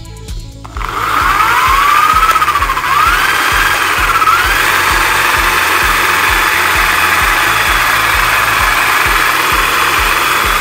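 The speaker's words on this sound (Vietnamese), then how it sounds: "Rồi mình sẽ để cái khoan ở vị trí chạy và mình dài nút lại" An electric drill spins a generator motor for a homemade wind power test, rising quickly to a loud, steady mechanical whine and hum that continues alone without pause.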